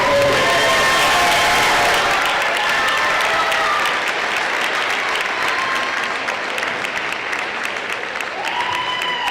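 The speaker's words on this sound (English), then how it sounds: "you hear the crowd" A high school basketball crowd claps steadily and loudly for an award winner, with some cheering mixed in, the applause easing only slightly toward the end.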